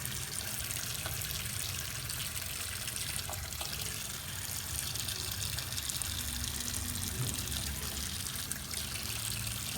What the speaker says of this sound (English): I'm just going to add some hot water.